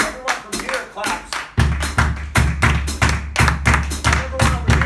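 A group in a samba masterclass claps a samba rhythm, sparse claps at first, then a fuller, heavier section joins halfway and the pattern continues in a tight, steady, repeating groove.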